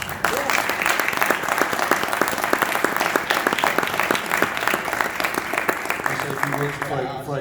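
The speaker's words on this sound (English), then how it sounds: "So how about a round of applause from all?" Loud, dense applause from a large audience, sustained and even for several seconds, tapering off as a voice begins speaking at the very end.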